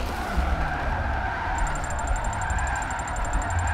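Nissan S13 drift car with an SR20 engine skidding sideways, a steady broadband tire roar with engine drone running the whole time and a thin high whine joining midway.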